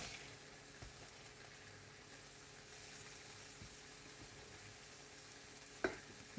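Egg and mushrooms fry in a stainless steel pan with a steady, soft sizzle that holds throughout, broken by one sharp utensil tap near the end.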